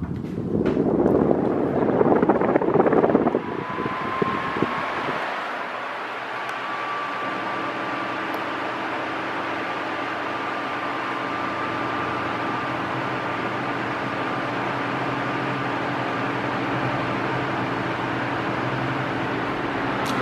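A Britânia Mega Turbo 40 tower fan (130 W) runs at medium speed after a loud whooshing burst of airflow at the start, then settles into a steady broadband whoosh with a faint whine and low hum, close and continuous.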